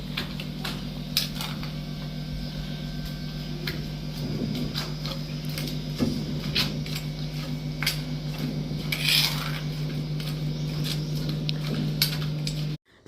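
Tamarind pickle (chintakaya pachchadi) is pounded in a vessel: repeated metallic thuds and clinks at an uneven rhythm over a constant mechanical hum, close and fairly loud, with no talking.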